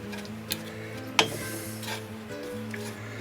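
A spoon stirring pumpkin soup in a pot, soft scraping and swishing with a couple of sharp clinks against the pot, faint and close, no voices.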